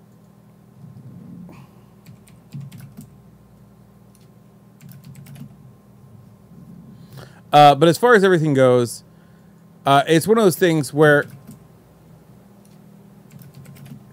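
Typing on a computer keyboard, a steady patter of light keystrokes running low under a voice, with two louder bursts of talk breaking in partway through.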